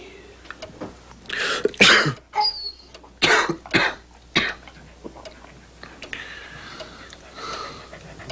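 Several harsh coughs and throat clearing in quick bursts, close and loud, with breathy pauses between them.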